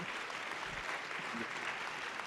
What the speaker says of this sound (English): Would you give a warm round of applause to Baraji and Sean for me?